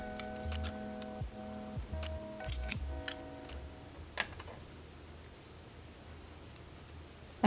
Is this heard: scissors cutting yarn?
yes